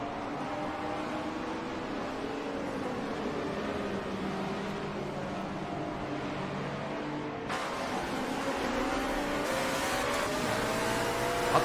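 GT4 race cars at Silverstone in a video game, engines droning and revving steadily as several cars run together, a continuous mid-distance roar that swells slightly louder toward the end.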